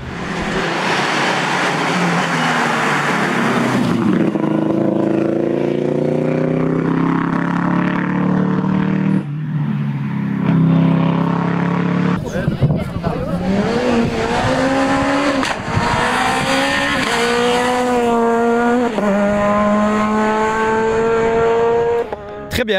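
Porsche rally car of over 500 hp driving a muddy stage at the Rallye de la Famenne, engine roaring and revving through gear changes with rising whines, loud and close, continuous throughout.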